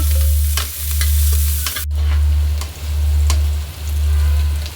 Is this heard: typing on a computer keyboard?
no